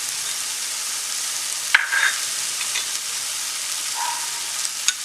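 Tomato frying and sizzling in a pan with curry leaves and fennel powder for Malabar mutton curry, a steady hiss broken by a stir and a brief clatter partway through, with no talking.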